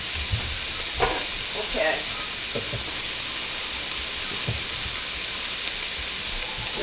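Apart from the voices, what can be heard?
sausage sizzling and being stirred in a pot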